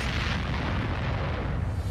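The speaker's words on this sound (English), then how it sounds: "Well, not after that explosion there" A loud explosion from the 2023 animated series Agent Elvis erupts as a dense, roaring blast with a heavy low rumble, sustained at full volume for about two seconds with no voices.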